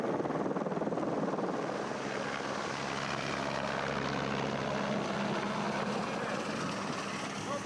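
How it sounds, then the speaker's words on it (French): A helicopter lifts off and climbs from a helicopter landing zone in the Lauterbrunnen valley, its rotor and engine a steady, loud, close drone that holds without a break throughout. "Vince et moi, on est donc à la zone hélico dans la vallée de Lauterbrunnen."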